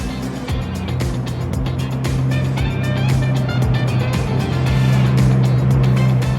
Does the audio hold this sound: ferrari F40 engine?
yes